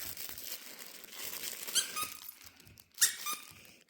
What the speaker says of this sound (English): He doesn't know what to think of this squeaker.